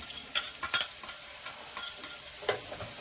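Red onion stirred into a pan of sausage and mushroom juices, with scraping utensil strokes and soft sizzling clicks close by, irregular bursts over a quiet frying hiss, no talking.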